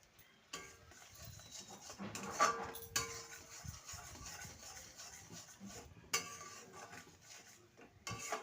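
Spices with Kashmiri chili powder stirred in a pan for a vegetarian ridge gourd and peanut dish, giving quiet scraping and clinking of a utensil against metal in irregular strokes, fairly close and faint, with no talk.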